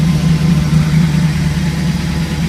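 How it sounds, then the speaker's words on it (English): A 1994 Chevrolet Camaro Z28 with an LT1 V8 idles steadily just after a cold start outdoors, a loud, even low rumble with a constant throb and no pauses or voices. "That is a dead cold start."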